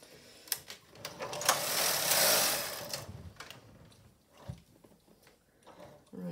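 A Silver Reed SK155 chunky knitting machine doing pattern knitting: a carriage swept across the bed in one loud rushing pass, with sharp clacks before and after, close and without talk.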